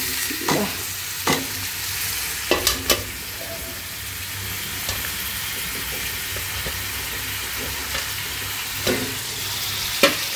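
Browned onion and boiled kohlrabi frying in a pan with a steady sizzle, broken by several sharp spatula scrapes and clatters as the mix is stirred, close and alone without talk.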